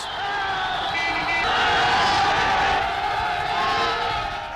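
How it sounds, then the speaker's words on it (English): Rapturous crowds cheer in Berlin in 1931, a loud, dense roar of many voices with whoops rising above it, continuous and sounding like an old recording. "On his visit to Berlin in 1931, he was met by rapturous crowds"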